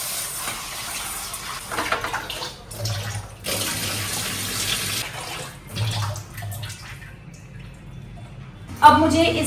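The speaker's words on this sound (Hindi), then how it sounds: "यहाँ से अब हम इस चावल को धोएंगे और उसका शॉट लेंगे।" Rice is washed by hand in water in a home kitchen, with running and splashing water rising and falling in bursts, then a sharper slosh near the end.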